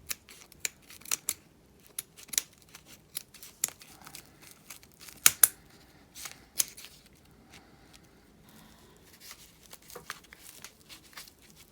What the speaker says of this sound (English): I'll try it with regular scissors.